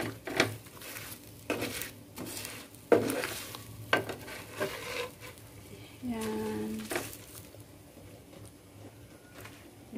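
Breadcrumb-coated shrimp frying in a pan: a soft sizzle under intermittent clanks of a utensil against the pan, close, with a voice talking between the knocks.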